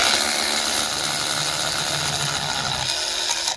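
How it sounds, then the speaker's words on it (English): Power wrench removing 17 mm transmission bolts, a loud continuous whirring and rattling drive that runs steadily and then cuts off abruptly at the end. "first thing we're gonna do is just start taking out bolts"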